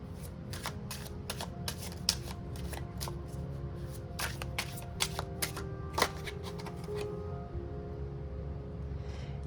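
Tarot cards shuffle in rapid riffling bursts with several sharp snaps and taps, close and crisp against a soft background hum, tapering off toward the end.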